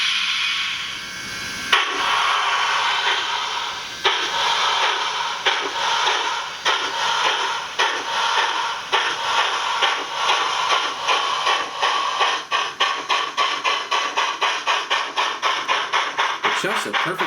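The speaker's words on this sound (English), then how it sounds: "The chuffs are perfectly synced with the wheels, that's nice." A Rapido HO Royal Hudson model steam locomotive running on test, its chuffs synced to the wheels, starting slowly and quickening into a fast regular beat, loud and close, with a voice talking over it.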